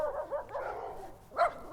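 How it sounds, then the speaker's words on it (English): A dog barks in short yips close by while passed on a walk along a street in Farmington, New Mexico, with brief pauses between the barks and a final sharp burst. "Hello, doggy"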